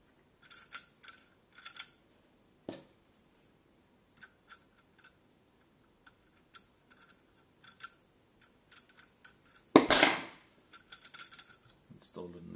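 Scissors click and snip in short metallic bursts as a pair is fitted into the scissors clamp of a KME sharpener, with quiet gaps between handling sounds and one louder clatter near the end.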